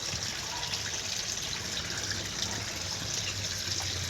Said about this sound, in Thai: นี่ก็เป็นปั๊มน้ำวนโซลาร์เซลล์